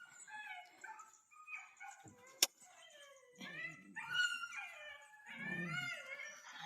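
A dog whimpers and yelps in a run of high, wavering whines and short howl-like cries, fairly close, with one sharp click partway through.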